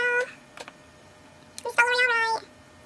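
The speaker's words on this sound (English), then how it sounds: "my cat is like crawling over me" A house cat meows up close, one short call followed by a longer, drawn-out meow, with a few brief faint sounds in between.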